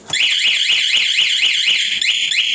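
An AutoRoute anti-theft alarm on a 2013 Kawasaki KSR motorcycle sounds continuously and loudly, a shrill electronic siren sweeping up and down in rapid repeating cycles, close by with no talking.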